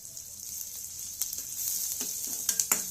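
Ginger garlic paste sizzles in a pan while paneer 65 is being made, giving a faint, steady frying hiss with a few light pops and spatters scattered through it.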